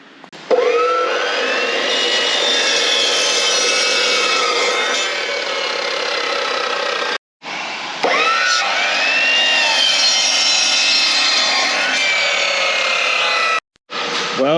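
A Milwaukee saw fitted with a toothed blade cutting through steel, loud and close with a harsh, ringing grinding screech that runs steadily, cuts out briefly twice and resumes, no voices over it.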